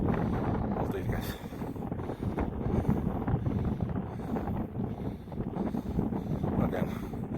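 Wind gusting across a chilly hilltop near Logatec, Slovenia, a steady close buffeting rumble on the microphone that lasts the whole time, with faint murmuring underneath.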